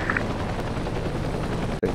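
Helicopter rotor and turbine drone from the video game Heliborne, a steady whirring hum with a brief dropout near the end, no talking.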